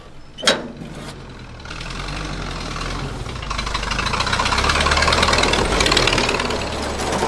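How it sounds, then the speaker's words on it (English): An old grey Ferguson tractor with a petrol-paraffin engine runs with a steady low rumble, after a sharp knock at the start, and grows gradually louder and fuller over the clip. "an old grey Ferguson. Runs on petrol or paraffin. You can get diesel ones, but this is a petrol paraffin."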